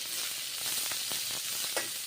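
Papaya pieces fry in hot mustard oil in a wok, giving a steady close sizzle with a few sharper pops and crackles and no talking.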